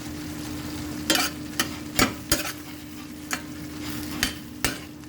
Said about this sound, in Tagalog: ilagay na natin ang ating sibuyas